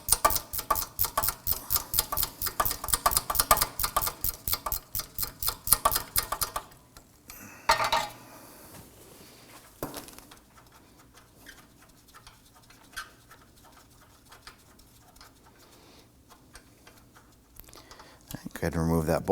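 Gear wrench on a wheel hub bolt of a 2003-2014 Volvo XC90, fast rapid ratcheting clicks in a dense rhythmic burst, then sparse clanks and handling noises at a lower level.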